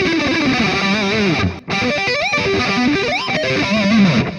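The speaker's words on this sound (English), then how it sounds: "Perfectly synchronized hands sound like this" A distorted electric guitar plays a fast, tightly articulated run of notes with effects, loud and continuous apart from one brief gap near the middle.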